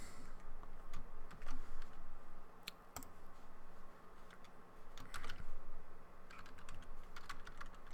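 Code is typed on a computer keyboard: a quiet, close run of irregular key clicks in quick bursts, with a few louder taps and brief pauses, and no talking.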